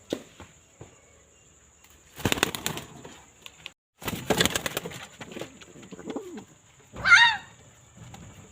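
A newly acquired pair of pigeons, Red Pakistan and Bonikka breeds, cooing close by in soft bursts, with a brief flurry of wing flaps and rustling between the calls.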